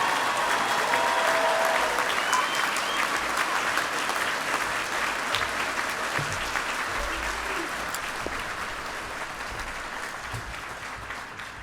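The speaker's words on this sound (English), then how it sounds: "join me in a very rousing round of applause for the graduates in microbiology" An audience at a veterinary medicine and biomedical sciences commencement applauds the microbiology graduates, a dense, sustained wash of clapping that holds steady and slowly tapers toward the end.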